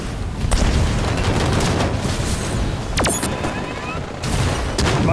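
Rapid, dense game gunfire and blasts in Halo 5 on a Forge map, a constant loud barrage with a brief sharp whine near the middle and voices mixed in.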